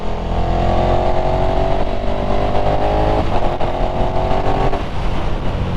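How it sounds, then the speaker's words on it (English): A motorcycle fitted with Racetorx throttle spacers, a 2022 model, revs hard and accelerates with a loud, steady engine roar that stays close for the whole stretch, the pitch dipping briefly and climbing again. "this bike, and it sounds fucking great, doesn't it?"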